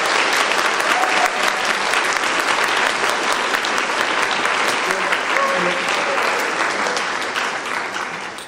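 An audience claps at a band spring pops concert, a dense, loud, sustained applause with some crowd noise that holds steady and slowly fades toward the end.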